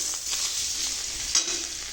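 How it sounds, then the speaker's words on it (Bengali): Chopped onions fry in hot oil in a kadai, giving a steady, close hiss of sizzling with a brief stir in the middle and no talking. "এবার আমি এর মধ্যে পেঁয়াজ কুচি দিয়ে দিলাম। পেঁয়াজটা ভালো করে লাল লাল করে ভেজে নিয়ে"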